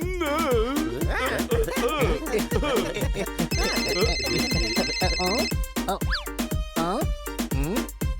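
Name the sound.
phone ringing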